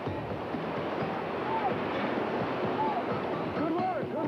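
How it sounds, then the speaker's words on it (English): Ocean waves wash and churn around a small paddled boat, a constant broad rushing surge with wind buffeting the microphone, no clear voices over it. "Got a couple of good waves in here, actually"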